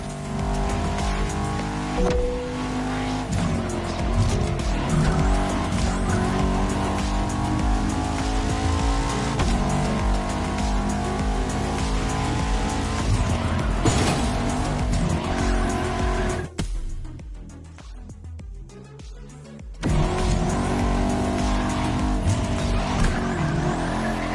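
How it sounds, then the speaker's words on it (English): Bugatti hypercar concepts race in The Crew Motorfest, with loud, constant engine roar, shifting revs and squealing, skidding tyres, briefly cutting out near the end before the racing resumes at full volume. "it's all about Bugattis this time. Two exquisite hypercar concepts."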